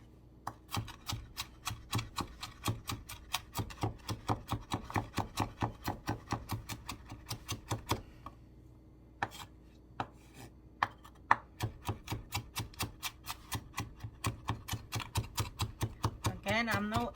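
Rapid knife chops on a cutting board as onion is cut up for rice in a home kitchen, a steady run of close, crisp strokes with a brief pause midway, no talking.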